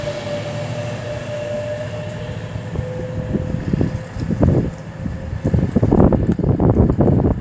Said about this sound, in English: now approaching me 221-101, working 1 Delta 86 from London Euston to Chester for Avanti West Coast.